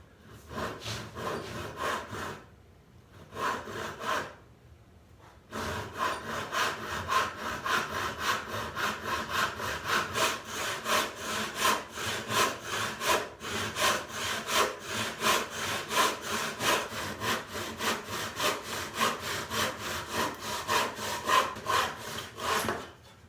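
A hand saw cuts through a wooden sideboard leg, its even back-and-forth strokes rasping steadily. After a short pause the sawing resumes in a long, consistent rhythm close by.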